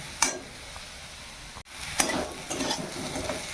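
Diced potatoes frying in a pan, a soft background sizzle with a few brief scrapes and clinks of a utensil, close by, with a short dropout midway.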